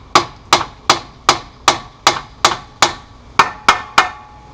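A hammer strikes the axle on a 1997 Mitsubishi 3000GT during clutch removal, about eleven sharp, loud metallic whacks at a steady, even pace, each ringing briefly, with no talking.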